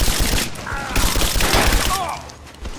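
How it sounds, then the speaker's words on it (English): Assault rifle fire in Rise of the Tomb Raider: dense, rapid bursts of gunshots and impacts with crashing debris, loud and close, with a voice speaking over the firing. "I love that assault rifle."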